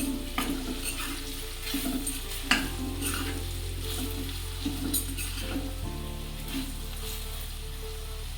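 Spices being stirred into okra and potato curry in a hot pan, a steady close sizzle with soft scraping strokes of the spoon and an occasional clack against the pan.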